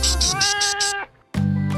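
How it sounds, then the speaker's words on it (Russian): Cats meow in Kennedy Park in Lima. A close, loud, drawn-out meow is followed by a brief pause and then another meow, with no talking. "Самые его любимые обитатели – это вот такие коты."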